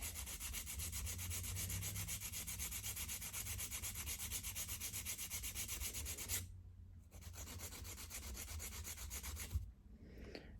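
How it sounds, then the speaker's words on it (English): A metal nail file rasping back and forth across a sculpted gel nail, a steady close-up scraping with fast rhythmic strokes and two brief pauses. "But I hold with my thumb while I'm filing, as I do not want this nail to break."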